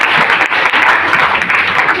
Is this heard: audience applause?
yes